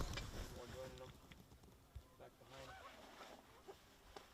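Canada geese coming in close overhead on an early-season North Dakota A-frame goose hunt give faint, scattered honks against steady open-air background noise, with brief louder calls standing out now and then.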